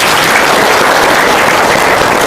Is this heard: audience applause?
yes